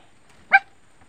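A dog gives a single short, yelping bark or whimper, brief and close, in an otherwise quiet setting.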